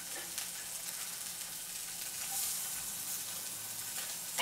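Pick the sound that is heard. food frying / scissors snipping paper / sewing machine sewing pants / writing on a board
food frying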